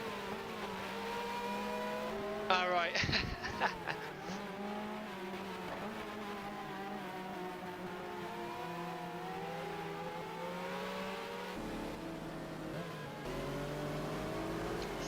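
Loud Judd engines on race cars closing in from behind during an ALMS Grand Prix of Charlotte in a racing game, a sustained, harmonically rich howl whose pitch shifts with gear changes. A brief burst of tire squeal comes early, and one short spoken word.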